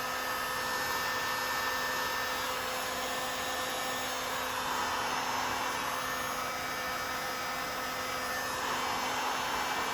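A heat gun blowing hot air onto the end of a fuel line on a Foxbody Mustang to soften it, a steady, even electric whir and airy rush held for the whole stretch, close and constant, with no speech.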